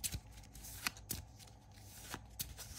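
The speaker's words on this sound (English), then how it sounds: "So let me shuffle these up." A deck of Marvel Champions cards is shuffled by hand at a table, giving several quick crisp riffling bursts with short pauses between, close and quiet with no talking.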